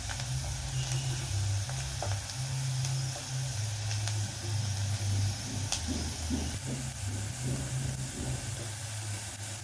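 Ingredients for dal fry sizzle in a pan as they turn light brown, a steady frying hiss running throughout with soft stirring scrapes near the end.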